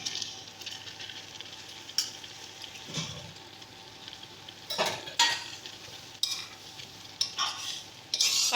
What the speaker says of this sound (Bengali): পাট শাকটা দিয়ে সুন্দর করে মিশিয়ে নেব এটাকে।